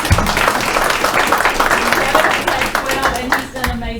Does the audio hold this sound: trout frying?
no